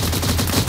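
Gunfire rattles in a Minecraft server game as a quick, loud burst of rapid repeated shots, packed closely together in under a second.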